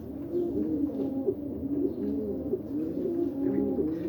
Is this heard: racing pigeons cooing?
yes